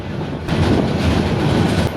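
A local train rolls along the rails near Dinajpur town, a steady loud rumble with wind buffeting heard from on board, continuous and without voices.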